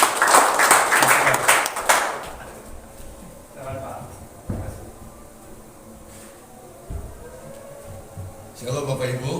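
A church congregation at a Sunday service breaks into a burst of clapping that fades within a couple of seconds, followed by someone speaking over quiet room noise.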